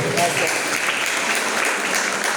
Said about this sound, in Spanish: ¿Cuánto le dan un aplauso al Señor en este tiempo?